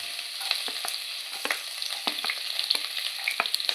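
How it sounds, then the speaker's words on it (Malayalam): Mustard seeds and finely chopped garlic sizzle in hot oil for a brinjal gravy, a steady crackling fry dotted with sharp pops and spits from the seeds, close and continuous with no voices. "ചൂടായ എണ്ണയിലേക്ക് കുറച്ച് കടുക് ഇടുക."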